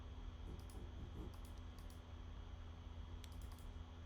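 Faint, quiet keystrokes on a computer keyboard come in short irregular bursts of clicks over a low steady hum, no voices.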